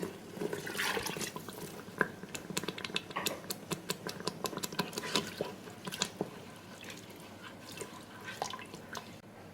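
A little water poured into a cooking pot holding coconut milk, salt and sugar for Arab mandy rice, heard up close as a run of splashy drips and trickling with sharp irregular clicks and taps.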